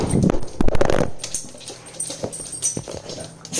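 A dog whimpers and whines in a vehicle while driving, with a few sharp high cries at the start followed by softer, broken whimpering and panting over low road noise.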